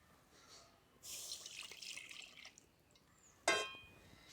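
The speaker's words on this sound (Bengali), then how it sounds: "দিয়ে দিচ্ছি হাফ লিটারের মতো দুধ" About half a litre of milk poured into a wok for a coconut filling, a brief soft splashing pour followed by a short liquid gurgle, quiet and close, with no voices.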